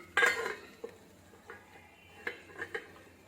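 A metal lid clatters down onto a pot of poha on the stove, one loud clank, then several lighter taps and knocks of cookware, with no talking.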